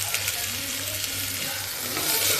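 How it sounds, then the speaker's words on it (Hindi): Onion and a bay leaf fry in hot oil with a constant, fairly loud sizzle, stirred along with a low steady hum underneath, no talking. "प्याज को भी मैं हल्का भून लूँगी।"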